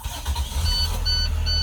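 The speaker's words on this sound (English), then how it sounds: "Once it cycles, you may start the engine." A bus engine starts with a low, steady rumble that builds and holds, while a series of short, high electronic beeps repeats over it.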